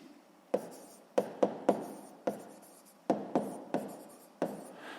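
Pen writing on paper during a sixth-grade maths exercise, heard as a series of short, distinct scratchy strokes with brief pauses between them, close and fairly quiet, with no talking.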